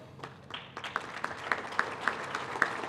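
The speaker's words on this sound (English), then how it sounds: "Let's give them all a big round of applause." An audience applauds at a small business of the year awards ceremony, starting with a few scattered claps that build into steady, moderately close clapping, with a brief cheer near the start.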